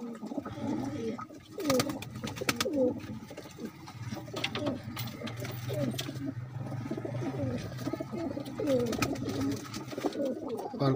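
Pigeon cooing, male bird with a female nearby in a loft of racing pigeons: soft repeated throaty coos rolling on steadily throughout, close and moderately loud over low background hum.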